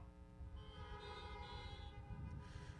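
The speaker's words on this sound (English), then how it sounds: "I'm going to need to hear your honks." Car horns honking together at a high school graduation in Pacific Grove, a sustained, overlapping blare with a low rumble of engines underneath.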